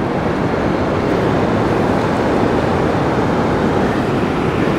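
Ocean waves wash in as a continuous loud broadband rush of surf near a shoreline, steady and close, with no voices over the churning water.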